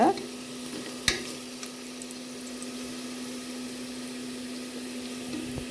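Vegetables sautéing in a pan until brown for a pressure-cooker vegetable biryani, a steady soft sizzle with a sharp utensil clink near the start and occasional stirring scrapes, close and moderately quiet.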